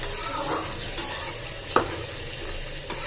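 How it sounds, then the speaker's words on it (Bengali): Chicken meat sizzles and crackles steadily in a frying pan, with light stirring scrapes and a sharp utensil clink partway through. "মুরগির মাংস ভাজতেছি"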